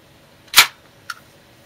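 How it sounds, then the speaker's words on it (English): A 1985 M.A.S.K. Rhino toy fires its spring-loaded battering ram with one sharp, loud snap, followed a half second later by a smaller click in an otherwise quiet room. "if you press this button on the left, it fires out its main battering ram"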